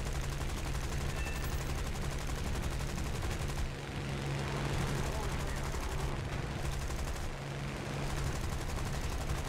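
Dense, continuous machine-gun fire from bomber gunners in the War Thunder aircraft game, a loud rapid rattle of overlapping bursts with a couple of brief dips.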